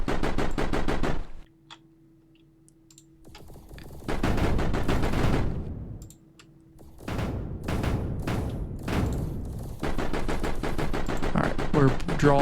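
Gunfire in the video game Mindustry comes in rapid bursts of loud automatic shots, separated by brief quieter pauses with a steady electronic hum, and the shots return in dense volleys toward the end.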